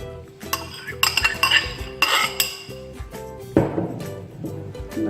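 A spoon scraping and clinking against a bowl while yogurt goes into a chicken marinade, with several bright metallic taps and a duller scoop near the end, close and clear without talk.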